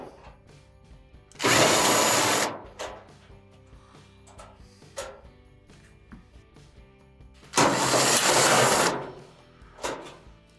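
Power drill backing out the two 5/16 panel screws at the top of an Amana dryer: two loud, close bursts of whirring about a second each, separated by quiet clinks and handling noise, then a short final buzz.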